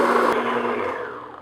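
An electric mixer whirs steadily on medium-high speed, beating cupcake batter in a bowl, a loud, close, continuous motor drone that eases slightly toward the end.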